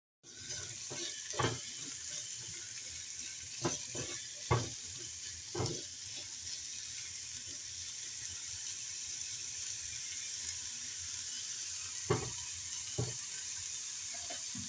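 Onions sautéing slowly in a pan for cheeseburger stuffed mushrooms give a steady, close, moderately loud sizzle, with a few sharp clicks and knocks scattered through it and no talking.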